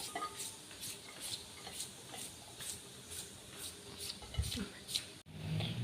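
Cucumber being shredded for a Thai cucumber salad, a steady run of soft rhythmic scraping strokes, close and moderately quiet, with a few louder knocks near the end.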